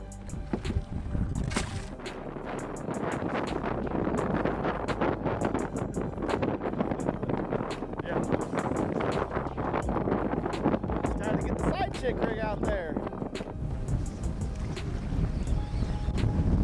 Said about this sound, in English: We're out here in the wind, dragging some natural rock.